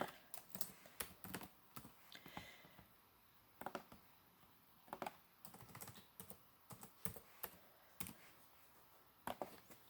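Someone types on a computer keyboard, entering a name as text in a Cricut design program; quiet, irregular bursts of clicking keystrokes with short pauses between words, close and alone with no talking.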